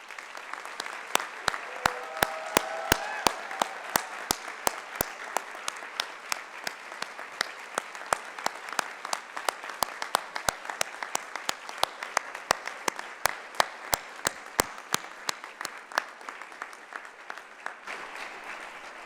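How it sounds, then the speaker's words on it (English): An audience at a university fall convocation breaks into sustained applause that begins strong and gradually thins to scattered clapping. The sound carries through a large hall, with no voices over it. "to rise so that we can further applaud your accomplishments"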